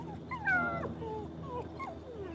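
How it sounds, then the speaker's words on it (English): A puppy whimpers and yips in short, high, wavering cries, a couple of rising and falling whines close by on a lawn, with no talk over them. "Oh, cute puppy wants to tell us all."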